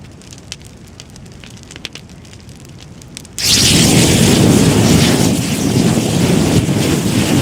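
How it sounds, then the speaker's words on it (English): A gas cylinder heated in a fire suddenly vents through its anti-explosion safety valve: after a quiet crackling stretch, a loud sustained roaring hiss of escaping gas bursts in and continues, close and fierce. "The anti-explosion safety valve activated and released the gas."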